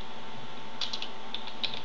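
Typing on a computer keyboard in a quiet room: a few faint, quick key clicks in the second half, soft and close.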